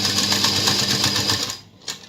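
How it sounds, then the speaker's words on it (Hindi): An electric sewing machine stitches along the corner of a net lehenga blouse, a steady rapid whirring hum that runs continuously then stops briefly near the end before a short restart. "इस तरीके से रखते हुए इसके कॉर्नर पे सिलाई लगानी है"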